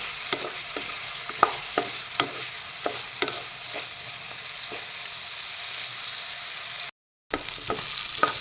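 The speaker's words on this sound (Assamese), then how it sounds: "এইখিনিও এনেদৰে লৰাই ল'ম একেলগে" Pigeon curry with coriander and cumin powder frying in a pan and being stirred Assamese style, a continuous sizzle with regular scraping strokes of the spoon, close and steady, one brief dropout near the end.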